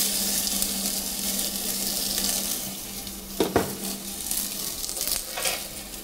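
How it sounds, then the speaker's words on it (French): Anjou pink onions hit a lightly oiled hot pan with a steady, hissing sizzle, broken by a few sharp clatters as they are tipped in and stirred. "Nous allons verser nos oignons roses d'Anjou"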